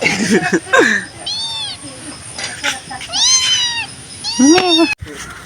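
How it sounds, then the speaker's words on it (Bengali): A cat meows several times in short, rising-and-falling calls, close and clear, with people talking between and around the meows. "বিলাইটা কি কিউট।"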